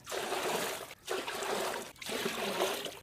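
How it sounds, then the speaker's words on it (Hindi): Water pours from a jug into a container for making red-syrup popsicles in a village, three steady splashing pours separated by brief pauses, close and fairly loud. "तो आज भी 3-3 जग जो है वो पानी डालेंगे।"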